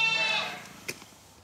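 A sheep bleats once, loud and close, during hoof trimming on a farm, followed by a faint brief knock and quiet.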